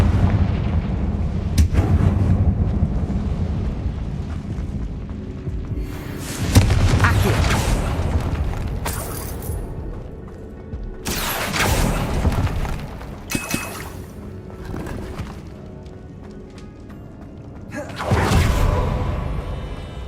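In the video game Hogwarts Legacy, Confringo spell explosions boom in a catacomb, several heavy blasts with whooshing bursts spaced a few seconds apart over a rumbling game soundscape.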